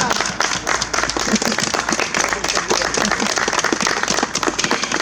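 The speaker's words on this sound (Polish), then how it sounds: "Brawa!" Loud, dense applause from an outdoor protest crowd on a square in Opola, rapid clapping sustained evenly throughout with a murmur of voices beneath.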